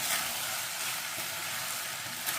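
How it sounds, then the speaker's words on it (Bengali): Cornflour slurry hits katla chilli fish in a hot pan, bringing on a bright, steady sizzle with faint stirring scrapes, close and constant with no talk. "এবার এই কর্নফ্লাওয়ারের জলটা একটু দিয়ে দেবো, দিয়ে ভালো করে একটু নেড়ে মিশিয়ে নেব।"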